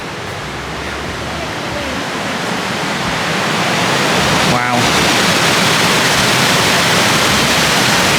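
A river in the Lake District rushes along in a loud, steady, broadband roar that builds slightly over several seconds, with one brief exclamation from a voice.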